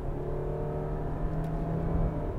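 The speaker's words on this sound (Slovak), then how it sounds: "zošliapnem plynový pedál, otáčky vyletia hore" Subaru Outback with a naturally aspirated 2.5-litre boxer engine and CVT gearbox, heard from inside the cabin as the engine revs under hard acceleration, a steady, moderately loud droning hum with no talk.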